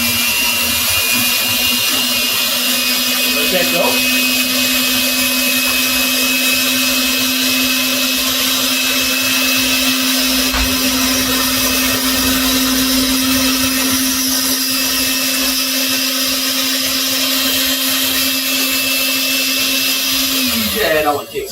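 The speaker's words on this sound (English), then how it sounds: "I'm just going to give my icing a quick fluff here" A mixer whips cake icing with a loud, steady, high-pitched motor whine that runs without a break for about twenty seconds. It slows and winds down at the end, with a few words spoken quietly beneath it.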